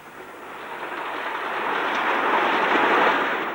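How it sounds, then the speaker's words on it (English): A Castle class steam locomotive roars past on a line toward Swindon and Paddington, a broad rushing roar that swells from a distance, peaks close by and starts to fade, with no voices over it. "Then a Castle loco roars towards Swindon and Paddington."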